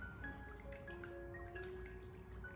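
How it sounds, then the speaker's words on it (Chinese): Pig liver being washed by hand in a bowl of water, with faint drips and light sloshing under a quiet, steady background, and no one speaking. "我们用手将猪肝给它不停的抓洗一下，把猪肝内部残留的一些血水给它不停的抓洗出来。"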